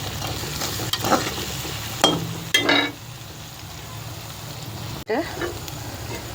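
Green chillies stirring and sizzling in a hot pan, with a few bursts of scraping and clinking from the utensil between quieter frying.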